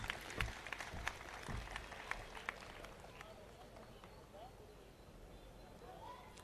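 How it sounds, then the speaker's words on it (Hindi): Audience applause at an Urdu poetry mushaira in Sakinaka, a dense wash of clapping that swells at first and then tapers into a steady, softer patter, heard from within the hall. "आप जोरदार तालियों से इस्तकबाल करें"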